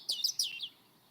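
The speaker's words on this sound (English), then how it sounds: "we think the Robin, it sounds almost apologetic" A European robin sings a brief thin phrase of high, tumbling chirps and trills, fairly close and clear, with no other sounds around it.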